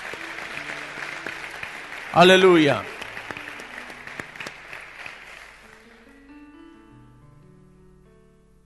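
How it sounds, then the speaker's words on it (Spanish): A short, loud burst of applause and cheering from a church congregation rises briefly amid a preacher's speech, then fades into quieter talk. "Le damos un aplauso a la palabra del Señor."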